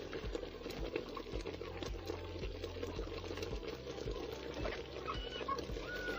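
A pot of unga simmering over an open village cooking fire, with a low, steady bubbling rumble and faint crackle throughout, close and moderately quiet, no voices.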